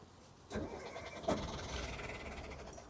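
Cold car engine cranking and catching, a faint starter whir followed by a sharper burst as it fires, then a low, steady idle rumble settling in.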